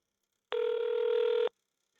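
A single outgoing call ring tone on speakerphone, connecting to a voice AI ordering agent: one steady electronic tone lasting about a second, clean and isolated with silence before and after.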